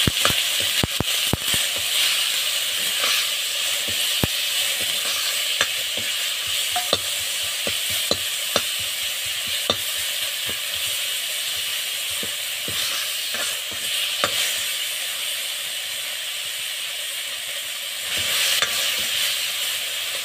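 Chillies and tomatoes frying in a pan give a loud, steady sizzle and crackle throughout, with scattered sharp pops and occasional stirring scrapes close by.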